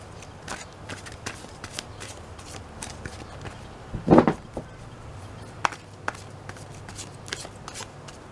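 A deck of tarot cards being shuffled up close, with repeated soft riffling and slapping bursts across the whole stretch and one louder, fuller flurry in the middle.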